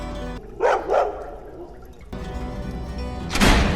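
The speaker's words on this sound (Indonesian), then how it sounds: "Merasa ada sesuatu, Lucky terus menggonggong" A dog barking inside a pump room beside a dry pond: two sharp barks close by, then a gap and another loud bark, with a steady mechanical hum underneath.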